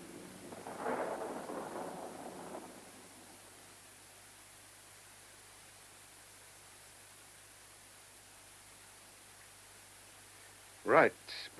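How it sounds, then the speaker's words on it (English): A thunderstorm with a distant roll of thunder rumbling over steady rain hiss, fading to a soft constant wash of rain before a sharp close crack near the end. "It seems we shall get a storm."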